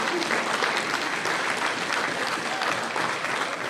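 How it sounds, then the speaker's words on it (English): An audience at a charity fundraising gala applauds a group of kids after their performance, sustained and dense clapping from a large crowd filling the room steadily throughout. "So I need all of you to give them a big, big, big warm applause"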